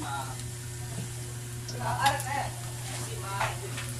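Ukoy fritters made with bolinaw fish sizzling in hot oil in a pan, a steady close frying hiss with occasional stirring scrapes, while a person speaks.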